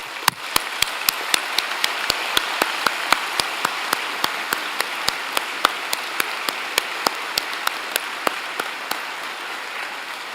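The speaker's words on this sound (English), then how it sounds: "applause." The audience at a Rotman School of Management spring convocation ceremony gives a steady round of applause, a dense wash of clapping with sharp individual claps standing out across ten seconds, with no voices.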